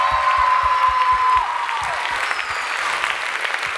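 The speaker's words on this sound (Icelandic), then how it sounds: "Og svo langar mig klappi líka sérstaklega fyrir Stellu Rósinkrans" Steady crowd applause for Stella Rósinkrans at a student dance show, dense clapping running continuously, with a soft sustained music tone fading out early and light low thumps underneath.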